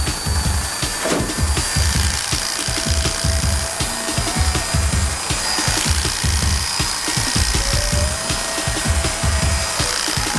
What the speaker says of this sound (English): then we clip the rest of his body quite short